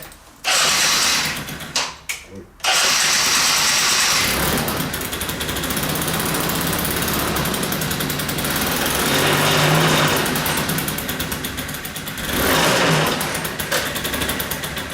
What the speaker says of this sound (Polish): Więc uruchamiam silnik.